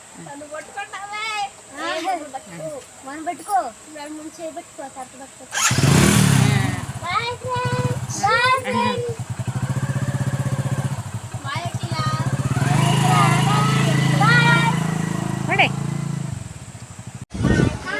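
A motorcycle kicks into life and rides off, the engine note rising and then holding a steady, loud drone as it travels, while family members chat and call out over it.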